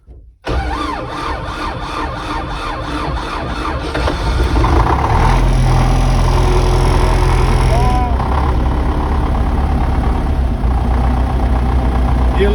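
A YuMZ tractor engine cranks and fires up in freezing weather, first with a steady rhythmic turning and then a loud, continuous running roar close by that holds to the end.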